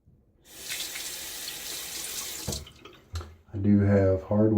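Cold hard tap water runs into a sink while a razor is rinsed: a steady hiss of flowing water for about two seconds, then brief splashes, with a person speaking afterward.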